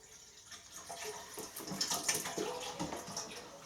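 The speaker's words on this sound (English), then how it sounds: "I go ahead and put my water in" Water pours steadily into a pot for lentil stew, making a continuous close splashing rush with no talking.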